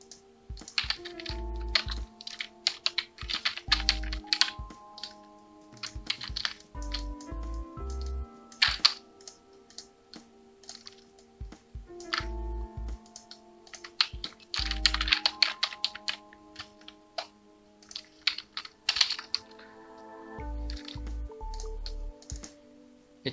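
Fingers tapping a computer keyboard in quick bursts of clacking keystrokes separated by short pauses, close and crisp over a soft musical background.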